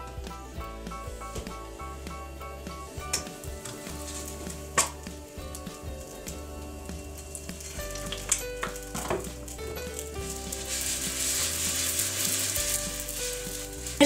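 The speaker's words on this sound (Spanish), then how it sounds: "Ya voy a freír el último." Turkish stuffed flatbread, gözleme, frying in a pan, a steady close sizzle with crackles and occasional pops and scrapes, growing slightly louder toward the end, with no talking.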